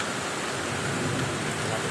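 Steady, dense rain hisses without a break on a construction site, a continuous wash of noise with no distinct drops standing out.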